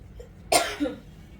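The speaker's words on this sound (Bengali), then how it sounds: "কাশি চলে আসছে।" One sharp, close cough bursts out, followed by a softer second catch of the throat, in an otherwise quiet room.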